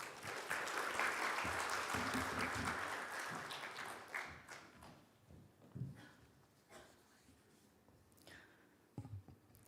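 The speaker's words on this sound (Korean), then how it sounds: "김재영 집사님 나오실 때 큰 박수로 환영해 주십시오." A church audience welcomes a speaker with applause, a dense patter of many hands at moderate volume. It fades after about four seconds into scattered claps, taps and light rustling.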